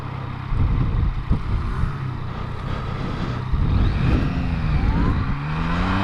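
A 2017 Yamaha FZ-09 / MT-09 motorcycle pulls away and accelerates hard through rising revs and gear changes, a loud, close, growling engine with wind rush and no voices.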